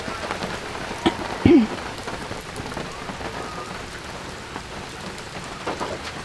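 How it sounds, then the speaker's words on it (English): Rain patters steadily on an Airstream RV with its awnings extended at a South Bass Island campsite, a constant soft wash of drops with a slightly louder splash or knock early on. "It's raining, but we do have our windows open."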